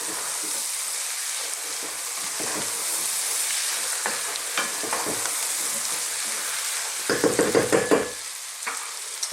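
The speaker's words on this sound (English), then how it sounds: "I'm now going to go in with my green beans or French beans or fine beans" Green beans frying over high heat in an Indian vegetable curry pan, with a steady sizzle under repeated stirring scrapes and a burst of louder clatter near the end.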